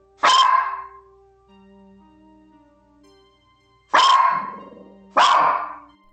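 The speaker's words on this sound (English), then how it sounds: "A dog. Watching it, following it, barking directly at it" A dog barks three times nearby, one sharp bark followed after a pause by two more in quick succession, with faint tonal hum between.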